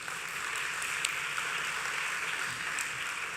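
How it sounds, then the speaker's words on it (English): Applause at a university graduate research ceremony fills the hall from a large audience, a steady, distant wash of many hands clapping with a few sharper claps standing out, and no voices on top. "Give them a round of applause."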